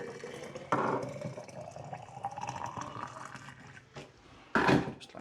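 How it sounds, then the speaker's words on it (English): Boiling water poured into a Stanley thermos bottle, a steady liquid filling sound with rising pitch, punctuated by a couple of sharp clunks of handling nearby. "I have my Stanley thermo bottle, and I just fill this with boiling water."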